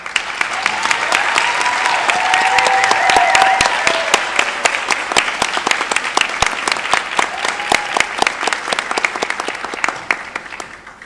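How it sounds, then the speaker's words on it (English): An audience at a community college practical nursing pinning ceremony claps in warm, sustained applause, full and fairly close, with a faint tonal voice-like line drifting underneath early on before the clapping thins toward the end. "give our heartfelt thanks and applause to all of you"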